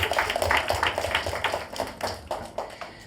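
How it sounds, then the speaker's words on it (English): Clapping from a panel discussion audience, heard as fairly quiet, uneven bursts of claps from a small group, with no voices over it. "I think she deserves a round of applause"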